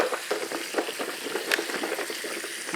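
Vegetables are rinsed in water, a busy, close wash of splashes, drips and sloshing with no clear pauses.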